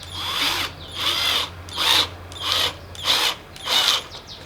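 Power drill driving screws into dry wood without pilot holes, five rhythmic whirring bursts about a second apart, close and loud with no talk.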